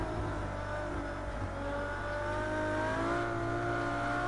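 A Ferrari LaFerrari's engine screams at high revs on the Nordschleife, a steady loud wail with rising harmonic tones that holds strongly throughout the lap.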